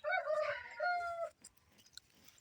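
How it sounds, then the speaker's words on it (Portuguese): Rooster crowing on a small farm, a loud drawn-out crow up close followed by soft scattered clucks from hens, with no talk. "As galinhas, a gente chega aqui perto, já pensa que é pra botar comida de novo"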